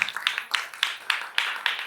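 A small audience gives a few rhythmic claps, roughly seven crisp hand-claps evenly spaced and fairly close, with nothing else sounding between them.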